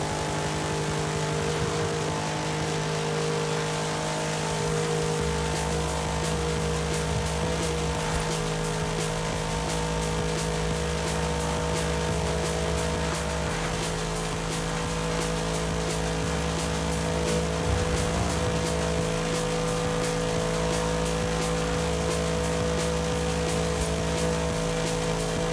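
A car engine with straight pipes in Forza Horizon 5 holds a steady, droning exhaust note with light pulsing revs, loud and continuous throughout with no voices.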